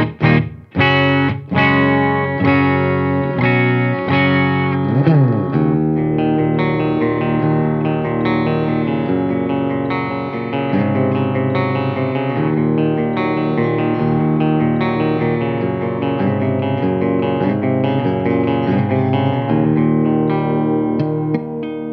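An Epiphone Adam Jones Les Paul Custom guitar on its bridge pickup plays clean, ringing chords and notes through effects, close and steady, with a strummed opening and a sustained melodic passage after it.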